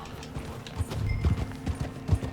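Horse hooves clip-clop in Red Dead Redemption 2, a steady uneven beat of close, moderately loud hoof strikes on the ground with no talk over them.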